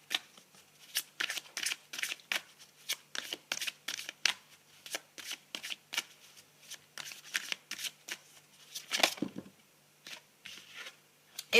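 Tarot cards shuffled by hand, a dense run of crisp riffling bursts repeating steadily at close range, with no talk over them.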